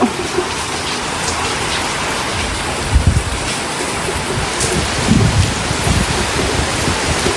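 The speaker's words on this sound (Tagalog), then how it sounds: "Simula po kaninang umaga ay umuulan na po." Steady rain pours down, a dense hiss of drops on surfaces, with a couple of faint low rumbles underneath.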